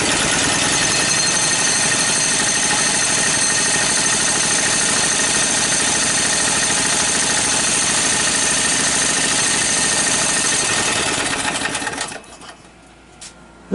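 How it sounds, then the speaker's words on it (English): An Onan engine on a homemade cart idles loudly just after starting, a steady mechanical drone with rapid clattering valve train noise that cuts off abruptly near the end. "this engine is certainly noisier as far as valve train noise"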